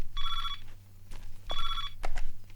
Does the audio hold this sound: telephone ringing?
yes